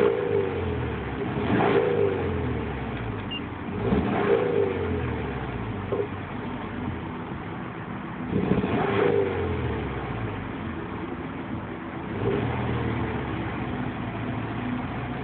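Car engine being revved toward 2000 rpm, repeated rises and falls in pitch every couple of seconds over a steady idle, recorded close with a muffled, bandwidth-limited sound.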